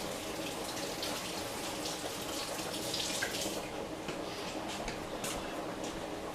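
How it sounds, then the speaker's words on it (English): Tap water runs steadily into a kitchen sink as fingers are rinsed under the stream, a soft continuous splash at close range with no talking. "let me rinse my fingers"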